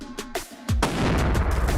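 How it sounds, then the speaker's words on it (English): A .308-class rifle fires a Federal Trophy Copper 165 grain bullet: one sharp, loud shot lands near the start, and its boom rolls on and decays into a long noisy tail, with a few fainter transients before it. "Shot out with the Trophy Copper."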